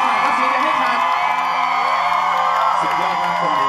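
A live audience cheers and whoops loudly for a singer as he performs on stage, with a sustained roar of shouting voices throughout.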